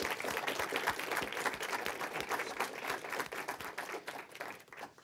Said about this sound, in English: I do want to give another round of applause to all the participants